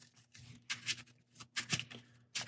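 A deck of game cards being shuffled and riffled in several short, crisp bursts with brief pauses between, close and fairly quiet.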